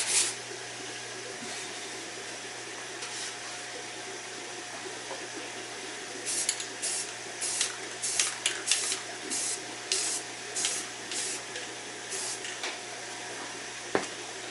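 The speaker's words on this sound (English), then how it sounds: "then just hit it with some spray paint" Spray paint hisses onto a rack indoors in one long burst followed by a string of short, close bursts, with a faint steady hum underneath.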